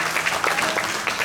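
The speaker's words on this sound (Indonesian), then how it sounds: "pertama tadi tepuk tangan tuh" Applause from an audience at a traditional Balinese drama performance at the Bali arts festival, a brief burst of dense, even clapping.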